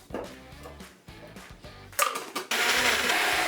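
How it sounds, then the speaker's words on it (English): Blender pulsing through fresh orange juice mixed with set agar orange jelly, several short motor bursts then a loud steady whir as it runs continuously, close up with no talking. "I'm just going to break this up and blend it with the fresh orange juice until I get a smooth puree."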